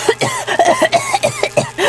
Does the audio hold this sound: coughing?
yes